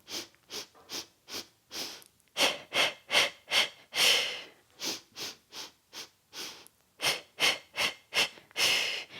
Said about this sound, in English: You're going to pulse the breath.